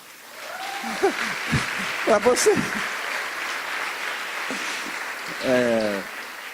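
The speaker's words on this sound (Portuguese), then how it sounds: "Então dê um aplauso para você." A church congregation claps in sustained, moderately loud applause that fills the background while someone speaks briefly over it.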